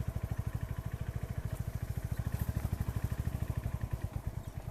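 A motorcycle engine chugs steadily nearby in a fast, even pulsing rhythm, idling or running at low speed on a narrow forest track near Hoshiarpur, Punjab, with no voices.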